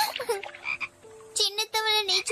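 Cartoon frogs croak in a Tamil-dubbed children's animated episode, a series of loud, bright, stretched croaks close up, with short pauses between calls and no talk.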